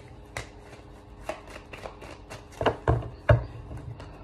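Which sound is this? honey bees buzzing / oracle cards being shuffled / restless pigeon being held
oracle cards being shuffled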